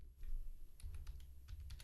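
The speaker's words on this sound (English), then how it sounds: "now I want to type here" Brief computer keyboard typing during a programming lesson on function return values: a few soft, close key taps over a low hum, with no voices.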